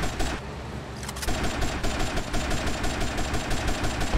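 Rapid automatic gunfire in GTA Vice City rattles loud and close in a dense, continuous stream after a brief quieter lead-in, with no voices.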